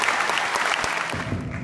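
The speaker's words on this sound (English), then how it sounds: "give a round of applause to the folks that have given their lives in Christ" An audience at a church concert gathering claps continuously at moderate loudness, a dense wash of hand claps that thins slightly toward the end.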